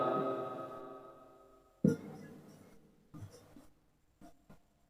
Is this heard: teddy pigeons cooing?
no